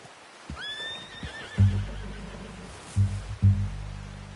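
A horse in a video game whinnies with a rising, wavering call, then low rumbling snorts and heavy breaths follow in bursts, close by.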